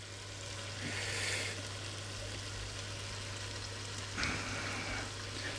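Ingredients for a sausage casserole sizzle quietly in a pan, a soft steady frying hiss with occasional stirring scrapes.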